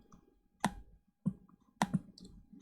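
Three sharp, quiet mouse clicks on a Windows computer, evenly spaced in an otherwise near-silent room.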